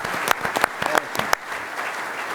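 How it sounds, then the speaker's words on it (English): A crowd at a Triangle Pigskin Preview football event applauds a legendary coach, a short burst of dense clapping with a few sharp claps standing out, fading into a low murmur. "So another round of applause for one of the all-time great Coach Dooley."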